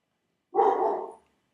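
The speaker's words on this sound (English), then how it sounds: "And that is my dog, not your dog." A single dog bark burst, loud and close indoors, lasting about half a second with a slightly drawn-out tail, alone in an otherwise quiet room.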